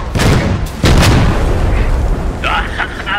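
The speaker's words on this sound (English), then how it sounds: "Time bomb." A time bomb explodes in a combat video game with two loud, booming blasts in quick succession, then a short rumble. A voice speaks near the end.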